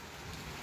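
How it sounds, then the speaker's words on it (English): Steady heavy rain on a stormy night, a dense continuous hiss of drops with a low rumble of thunder beneath, faint and unbroken throughout. "it's lightning, y'all."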